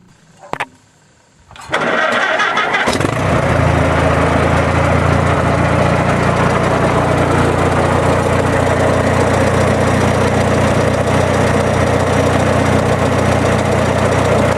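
A tractor engine cranks briefly after a few clanks, then catches and runs loud and steady at idle with a rough, knocking rumble for the rest of the clip.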